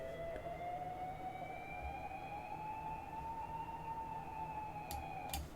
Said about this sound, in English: And then we got just the siren.